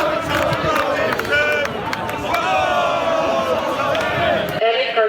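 A dense, agitated crowd in Blackpool fighting during a riot: loud, continuous shouting and babble that stays close and unbroken throughout, with sharper yells standing out and a sudden cut at the very end.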